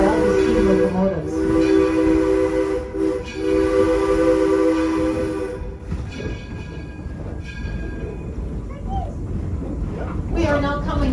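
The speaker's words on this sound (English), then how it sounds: "enjoy some of the sights and sounds of the steam locomotive" A steam locomotive rolls along with a long whistle blast at the start, then rhythmic chugging and rattling of cars, loud and close, whistle returning near the end.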